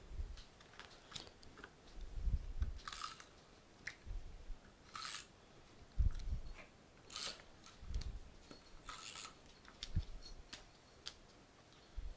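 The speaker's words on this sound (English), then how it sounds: "just going to put a bit of washi tape on the back, because this is going to go over the two, and then I'll cut it in the middle." Scissors snipping washi tape during scrapbook page making, a series of crisp close snips spaced a second or two apart with soft handling rustles in between.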